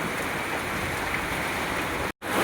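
Steady rain pours down outdoors on a windy day among swaying palm and coconut trees, making an even, dense hiss throughout with a brief cut-out near the end and no voices.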